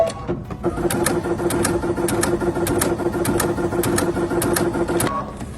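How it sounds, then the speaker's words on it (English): A Baby Lock Altair sewing machine stitches in directional sewing mode, running with a steady close mechanical whir and a continuous tone, with sharp ticking clicks repeating at irregular intervals. "Look at this directional sewing."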